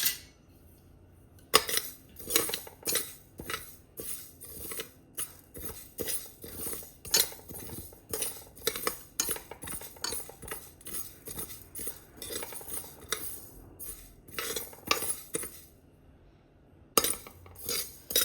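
Mustard seeds, cumin and fenugreek roast in a dry pan, giving a busy run of close metallic clinks and scrapes from stirring, irregular and fairly loud, with brief quieter gaps and no talk.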